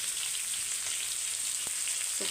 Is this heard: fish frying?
yes